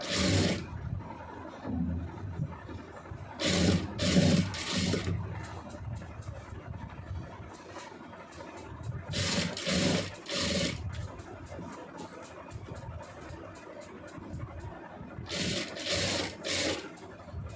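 A sewing machine stitches piping onto fabric in several loud, fast-running bursts separated by quieter pauses of handling and rubbing, close by and with no talking.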